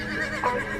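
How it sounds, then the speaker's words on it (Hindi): A horse whinnies once in a short, fairly loud call with no voices, part of a battle charge of horses at the Battle of the Jhelum. "पोरस के पीछे घोड़े दौड़ाए।"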